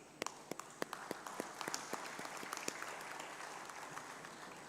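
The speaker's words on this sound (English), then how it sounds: "You need a big round of applause for your parents, grandparents, siblings, and your brothers and sisters and your friends." Audience applause at a graduation ceremony, a crowd clapping steadily with sharp individual claps standing out, moderately loud and fairly close, sustained without speech throughout.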